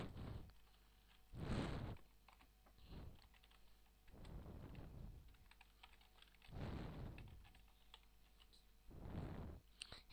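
Soft bursts of typing on a new computer keyboard, heard faintly and close in several short clusters separated by pauses, with no talking.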